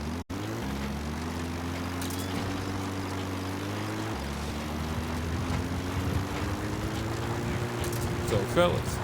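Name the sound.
support helicopter arriving in video game Metal Gear Solid V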